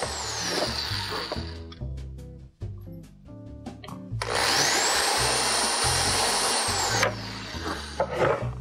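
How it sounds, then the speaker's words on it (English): A handheld power drill boring two adjacent holes for jewelry wire, its motor whining up and down in short bursts, then a long sustained high-pitched run before stopping, close and loud. "I'm drilling two holes right adjacent to each other for the jewelry wire to go through."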